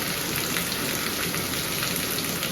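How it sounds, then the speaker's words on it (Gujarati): Heavy rain pouring over a Gujarat village home and fields, water running through the yard: a loud, dense, unbroken hiss of falling drops, close and steady throughout, with no voices. "ફૂલ વરસાદ ચાલુ છે અટાણે"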